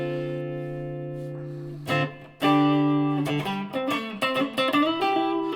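Electric Telecaster-style guitar played clean through an amp with reverb, a held chord ringing out and then a run of plucked notes and chords with a washy tail, close and alone.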